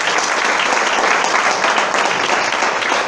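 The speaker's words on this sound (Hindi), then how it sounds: "तालियां चंद लोगों की बजी हैं" Applause from an audience at a business meeting, a dense, steady wash of clapping that stays loud and even throughout, with no breaks.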